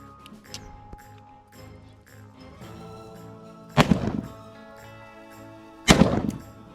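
Two sharp, loud black powder shots from an American Gun Craft Desperado pistol fired with 209 primers, spaced about two seconds apart, each followed by a brief ringing echo.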